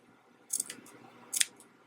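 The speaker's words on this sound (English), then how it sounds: "Snip off the extra ribbon" Two quick, crisp snips of scissors cutting through thin ribbon, spaced about a second apart in a quiet room.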